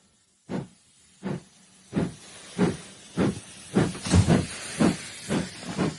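A steam train puffs and hisses in a radio drama sound effect. Ten or so rhythmic chuffs start slowly and build steadily in pace and loudness, close and clear with no talk.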